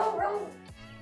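A dog barks once or twice in quick succession, close and fairly clear, the bark fading into a short tail.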